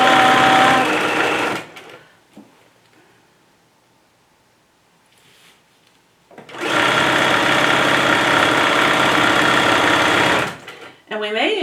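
A sewing machine stitches a fabric bag in two loud, fast buzzing runs separated by a quiet pause, with a brief mechanical clatter at the end.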